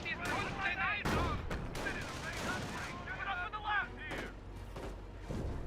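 Bursts of battlefield gunfire and artillery crack and thump repeatedly in Company of Heroes 1, irregular sharp shots amid combat noise, with voices heard among them.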